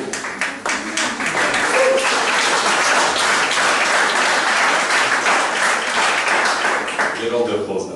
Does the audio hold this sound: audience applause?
yes